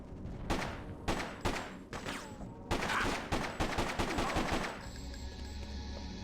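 Gunfire in the PC video game Freedom Fighters: several loud bursts of rapid automatic shots, separated by short gaps, with a dense volley near the middle, then a low steady rumble after.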